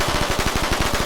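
A new top-loading automatic gun in Anomic, built like a P90 with a 40-round magazine and new ammunition, fires a fast, even stream of close, loud shots in one short burst.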